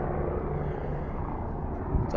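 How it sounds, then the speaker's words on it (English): A helicopter passes over a river, giving a steady muffled rotor drone at moderate distance for a couple of seconds. "Oh, it's a helicopter."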